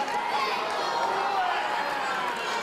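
A wrestling arena crowd jeers Darren Corbin, a steady, dense wash of booing and chatter from many voices filling the hall throughout, heard from a distance.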